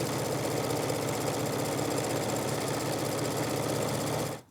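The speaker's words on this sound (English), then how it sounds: "Let's finish this up at the sewing machine." A sewing machine stitching quilt binding runs steadily at speed with a rapid, even mechanical stitching chatter, close up, then stops abruptly.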